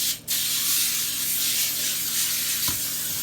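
A can of coconut oil sprays onto a sheet of aluminum foil in one long, steady hiss after a brief opening puff, loud and close, with no talking.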